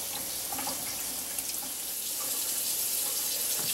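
Kitchen sink faucet running steadily, a continuous broadband rush of water with a few small splashes, close and even in level throughout.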